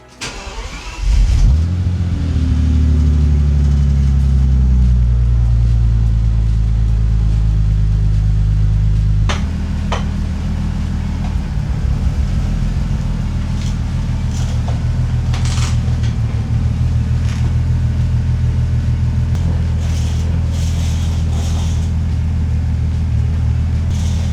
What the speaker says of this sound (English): Now it's time for a cold start.